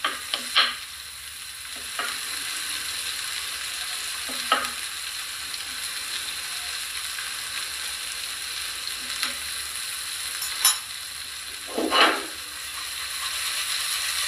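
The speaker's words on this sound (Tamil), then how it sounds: "இப்போ இந்த வெஜ்ஜீஸை ஒன்று சோட்டே பண்ணணும்" Vegetables sauté in a pan for a grilled pepper prawn meal, giving a steady hiss of frying with occasional scrapes and clatters as the food is stirred and moved about.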